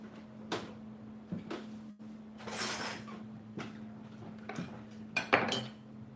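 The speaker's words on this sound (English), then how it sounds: "I'm just going to let them drain for a minute while I chop up this cilantro" A knife chopping cilantro on a cutting board in a kitchen: scattered, irregular light taps and clinks of the blade, fairly quiet and close, with a steady low hum underneath and no talking.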